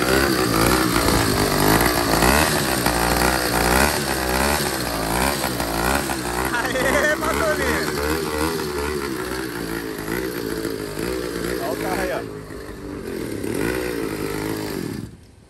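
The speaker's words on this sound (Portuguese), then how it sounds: "arrumei a motorizada do mano, ó. Troquei cilindro." A motorcycle engine runs after a cylinder replacement, revving up and down close by in loud, wavering bursts of buzzing roar, then dropping to a lower idle before a final rev and cut-off.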